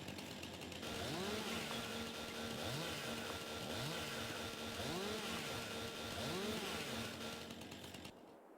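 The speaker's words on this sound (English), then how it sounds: "I like to tap the trigger there. Less fuel usage on your chainsaw." A chainsaw runs close by at high revs while its trigger is tapped repeatedly, producing a steady rising-and-falling whine in an even rhythm of about five bursts before it cuts off, with no talking.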